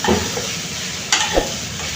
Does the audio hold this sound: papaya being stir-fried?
yes